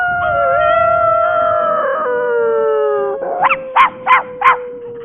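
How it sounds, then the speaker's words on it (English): A long, blood-chilling canine howl holds and slowly falls in pitch, then a few short yelping cries follow in quick succession, loud and close with nothing else behind them. "you don't get your vampire card without a few blood-chilling howls now and then"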